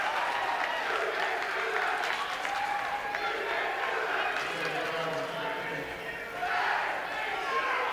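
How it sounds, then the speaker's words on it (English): A loud, rowdy crowd at a Versailles vs California basketball game, with sustained cheering and clapping mixed with crowd voices and a surge of noise near the end. "loud and rowdy crowd tonight"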